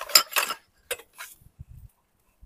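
Discarded kitchenware being handled at a dumpster in Korea, a few sharp bright clinks and rattles in quick bursts, followed by softer low knocks, close and otherwise quiet.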